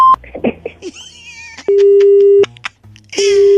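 A phone call is cut off and two long steady electronic disconnect beeps follow, loud and close, after brief voice sounds and clicks.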